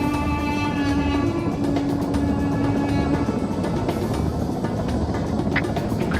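A helicopter in the military game ArmA 3 drones loudly and steadily up close, a continuous rotor and engine roar with a sustained low hum and scattered clicks across the whole stretch.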